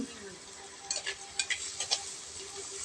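Curry leaves dropped into frying pork curry, with a steady sizzle underneath and several sharp scraping stir strokes near the middle, close and fairly loud.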